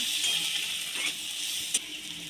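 Fried onions with turmeric and chili powder being stirred in a pan, a steady bright sizzle throughout with a few soft scraping strokes and a quick clink near the end.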